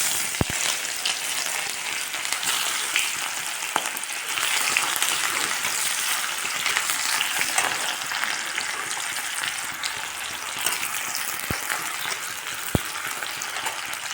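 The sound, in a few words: cumin and onion frying in hot oil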